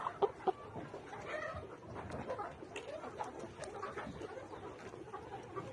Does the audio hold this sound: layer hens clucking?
yes